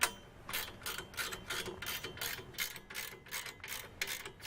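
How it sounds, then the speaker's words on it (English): Wrench ratcheting while fastening a powder-coated latch part during assembly of an ALTA SIX GPR 2.0, a series of about eight quick, close, crisp clicking bursts in an even rhythm, with no voices. "So we're just going to use the wrench"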